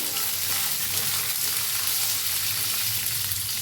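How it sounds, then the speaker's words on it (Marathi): Amla and peanuts dry-roasting in a pan for amla chutney, giving a continuous even sizzle and hiss up close, with no voices over it. "ह्याच्यात घालूया आवळा त्याला भाजून घेऊया"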